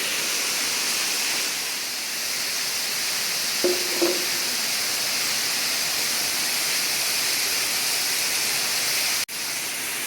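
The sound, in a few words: waterfall in a 109-foot pit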